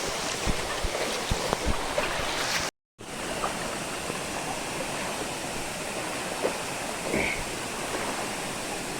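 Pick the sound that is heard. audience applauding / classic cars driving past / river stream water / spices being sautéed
river stream water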